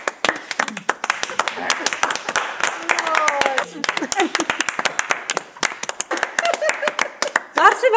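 Guests at a gathering clap in long, irregular applause, sharp close hand claps continuing throughout while several people talk over them.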